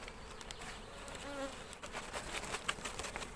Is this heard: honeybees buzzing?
yes